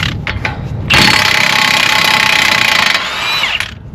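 A power tool, likely an impact wrench, loosens the nut on a Dodge Journey front strut with a 1.25-inch socket, in loud rapid hammering bursts: brief taps, then a sustained two-second run and a short final burst.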